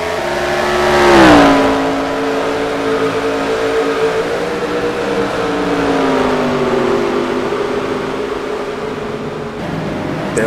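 Loud engine drone of race cars lapping Sonoma in NASCAR Racing 2003, one car revving up and sweeping past near the start, then a steady whining engine tone under the race commentary.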